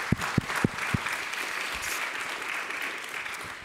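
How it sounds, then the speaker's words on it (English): An audience at a summit applauds steadily, with a few loud close claps at the start before the clapping settles into a dense, even wash of sound. "But we give them an applause first."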